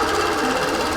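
Longarm quilting machine stitching a Meandering Jasmine pantograph, a dense fast rattling needle hum held steady and loud at close range throughout, with no talking.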